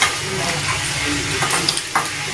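Mercury being washed with water and kneaded by hand, giving a continuous wet squishing and sloshing texture with a few small splashy clicks near the end, close and moderately loud.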